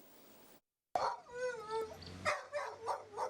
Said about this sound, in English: Aviation correspondent Emmanuel Ayemiro visited the military working dogs cannon wing of the Abuja airport to witness firsthand the training of these dogs for increased security